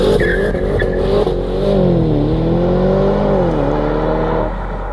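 Porsche Panamera Turbo with a modified exhaust pipe, revving loudly up close in a sustained, wavering drone that rises and dips before easing off at the end.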